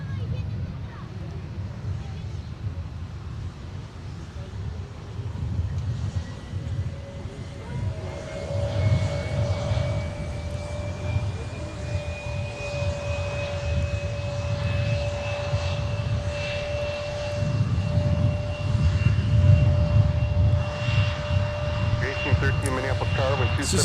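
A CRJ 900 regional jet on Endeavor Flight 4913 to Des Moines moves at MSP airport, its engines making a steady roar with a rising whine that grows louder toward the end while a voice talks over it.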